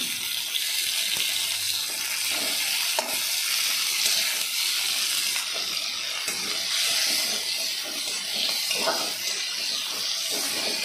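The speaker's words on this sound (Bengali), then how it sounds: "একটু ভাজা ভাজা করে নিতে হবে।" Tomatoes with their seeds removed fry in a pan, giving a steady, loud sizzling hiss that runs unbroken throughout, with a few faint clinks and no voices.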